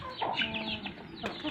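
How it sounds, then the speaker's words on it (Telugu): A red rooster calls with short, nasal clucking and crowing bursts, fairly faint and close-ish, over a quiet background. "ఎర్ర పుంజు వస్తుంది."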